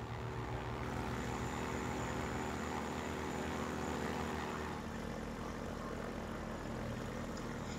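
Propeller plane with thrusters flying in Garry's Mod, giving a steady, loud, continuous engine drone that holds throughout with no talk.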